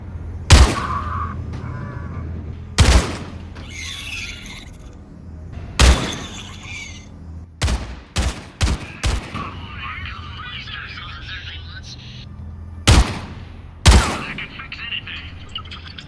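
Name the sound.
StarCraft action figure sounds when shot in Overwatch video game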